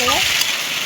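Pumpkin and Malabar spinach stalks fry in hot oil with a steady, close sizzle that fills the whole moment, a brief voice-like tone rising over it at the start.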